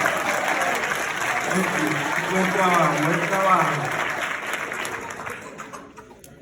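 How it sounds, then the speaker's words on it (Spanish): Church congregation applauding together, a steady wash of clapping that swells and then tapers off, with someone speaking briefly over it. "Alguien anímelo con un aplauso"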